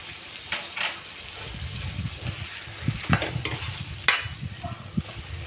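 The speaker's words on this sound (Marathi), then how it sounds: "वांगे आणि बटाटे याच्यात परतून घ्यायचे" Brinjal and potatoes sizzle softly while being stirred and sautéed in green masala in a pan; a steady low frying hiss with scattered scraping spoon strokes, close and fairly quiet, no voices.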